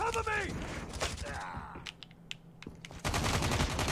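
A BK57 rifle in Call of Duty Mobile fires several short bursts of rapid shots during a multiplayer match, mixed with other game effects. A burst near the end is louder.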